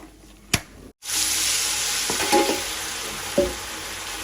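Steady loud sizzling of pond fish frying in hot oil, with a few sharp clicks and clatters of a utensil.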